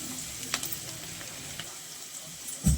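Onions fry and soften in a pan, making a steady, moderate sizzle, with a few light spatula taps and a louder knock at the very end.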